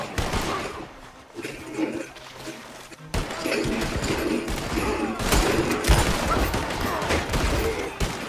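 Shotgun fire in the Western game Red Dead Online: repeated heavy blasts and thuds pile up into a dense, continuous barrage of gunfire and crashing impacts.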